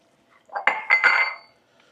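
Ingredients for smoked beef chuck roast get tossed together in a pan, a short burst of clinking metal and scraping lasting about a second, close and alone with no voices.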